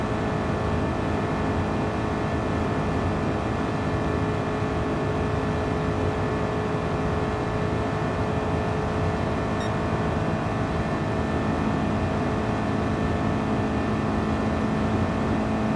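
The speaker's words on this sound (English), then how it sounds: "It's under the Gran Turismo brand, and they call it the Chris Hallstrom's 1967 Nova" A 1967 Chevrolet Nova race car, branded Gran Turismo, in the Gran Turismo video game, with a steady, droning engine held at high revs, loud and continuous throughout a lap.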